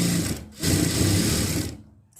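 Sewing machine running steadily while stitching a salwar, a close, continuous mechanical whir that pauses briefly near the start, resumes, then stops at the end.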